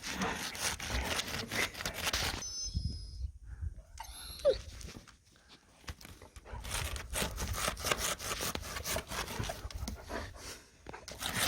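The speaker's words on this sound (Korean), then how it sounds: "보스야 너 얼음을 긁으면 빠지는데" A German shepherd scratches and scrapes at ice with its paws, producing repeated rough scraping strokes up close, broken by a brief quieter pause midway, with the dog panting between strokes.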